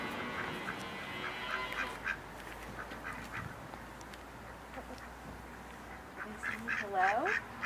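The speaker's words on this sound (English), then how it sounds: "Do you hear ducks?" Ducks quack faintly at a farm in a short series of calls that grow busier toward the end, heard under quiet talk and light background noise.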